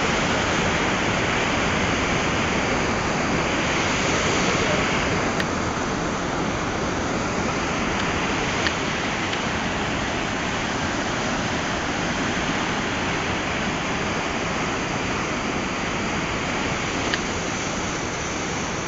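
A steady, full rush of flowing water runs unbroken throughout, broad and constant like a nearby river.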